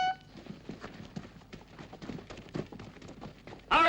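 Horses' hooves drumming in a rapid, irregular galloping rhythm on the ground in a Western film scene, fairly close, followed by a sudden loud burst at the end.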